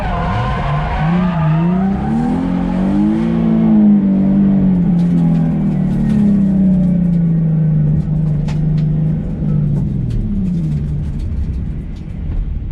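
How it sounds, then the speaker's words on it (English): A car accelerating hard in first gear, then drifting with the e-brake on a driving course: loud, close engine roar with a long, sustained tire squeal that rises and falls as the car slides. "So first gear, take off, 30 mile an hour, clutch, turn, e-brake."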